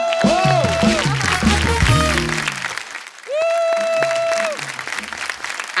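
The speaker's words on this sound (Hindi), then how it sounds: "एक बार जोरदार ताली हो जाए" A studio audience at a comedy talk show breaks into loud applause that fills the room, with a sustained wash of clapping and a brief surge partway through, while music plays underneath.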